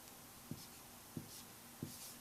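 A pen writes numbers on paper in three quick, evenly spaced scratchy strokes, close and faint, over a soft background hiss.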